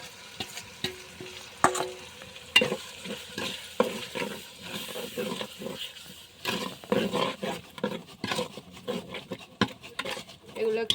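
Biryani spices, meat masala, garam masala and bay leaves are stir-fried in a pan, with close, irregular scraping strokes of a utensil over a sizzling bed of oil.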